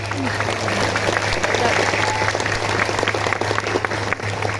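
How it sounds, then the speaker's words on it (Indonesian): Audience applause at a Maulid Nabi religious gathering, continuous clapping from a large crowd under a steady electrical hum, with voices mixed into the noise. "Kasih tepuk tangan."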